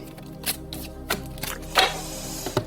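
Tarot cards are shuffled for a spiritual reading, producing several sharp riffling bursts and soft card slaps at irregular intervals, close to the microphone over a faint steady background hum, with no one talking.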